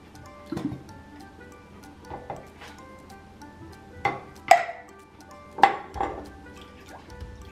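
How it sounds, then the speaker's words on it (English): Cream of mushroom soup, milk and pepper get stirred together in a bowl with a utensil, giving a few soft scrapes and several sharper clinks against the dish, spaced irregularly in a quiet kitchen. "Mix the cream of mushroom soup and the milk and the pepper together."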